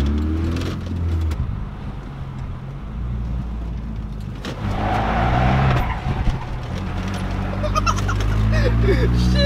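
A car fitted with Belltech street performance shocks slides on the road, with engine drone and rising rubbery tire squeals, strongest near the end, and people talking inside the car over the noise.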